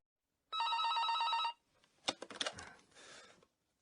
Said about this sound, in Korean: 대우 구조조정본부장실로 한 통의 전화가 걸려오고 있었다.